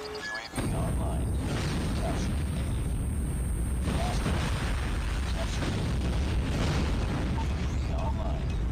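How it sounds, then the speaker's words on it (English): Nuke explosion in the video game Call of Duty Mobile, a sudden loud blast that swells into a sustained roaring rumble lasting several seconds, dense and close. "Warning, friendly nuke has been launched."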